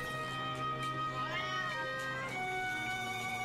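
A cat meows in The Legend of Zelda: Echoes of Wisdom, a few rising and falling tonal calls sitting over steady game music with no talking.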